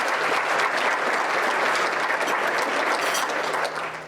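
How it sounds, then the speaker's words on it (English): Audience applause fills a business development corporation's annual meeting hall, a steady, dense clapping held at full strength for about four seconds before tapering slightly at the end. "Please give them a round of applause."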